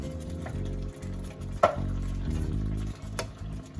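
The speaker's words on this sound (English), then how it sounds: "Give it a good stir" Shrimp simmering in coconut milk in a pan, stirred with a soft low bubbling and a steady hum underneath, broken by a few faint clicks and one sharper tap of the utensil.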